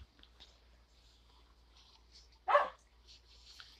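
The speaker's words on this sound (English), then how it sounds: "A random dog." A dog gives a single sharp bark partway through, fairly near against a quiet background with faint scattered sounds.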